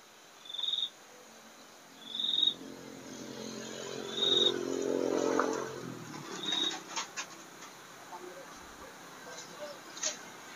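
Crickets in a teak forest give short, high chirps every two seconds or so, fairly faint against a quiet outdoor background, with a low murmur and rustling in the middle stretch.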